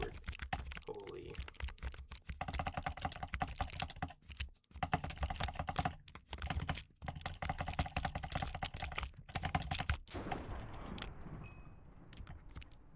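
Membrane computer keyboard being typed on, with dense clattering keystrokes in quick bursts and short pauses throughout, close and fairly loud, a voice heard talking underneath at times.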